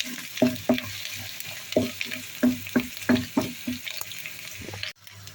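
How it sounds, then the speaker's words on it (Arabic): Minced garlic is stirred into wilted onions frying in a pan, with a soft continuous sizzle under repeated scraping strokes of a spoon, close up, then a sudden stop near the end. "على البصل بعد ما ذبل معانا معلقة صغيرة من الثوم المهروس ونحرك"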